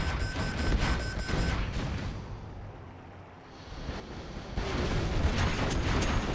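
A TNT blast from a Company of Heroes match on the Drallim Desert map, a heavy booming roar that fades briefly and then swells again into dense rumbling explosions, loud and close with no talk.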